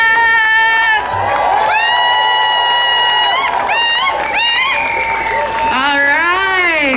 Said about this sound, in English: let's have a big, big cheer for love